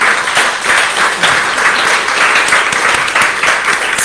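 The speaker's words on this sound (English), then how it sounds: "So first of all, a great applause to the participants." An audience claps steadily for event participants, a dense, sustained round of applause filling the space at a strong, even level without pause.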